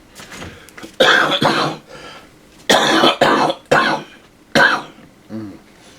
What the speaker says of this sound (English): That's why you guys hear me coughing.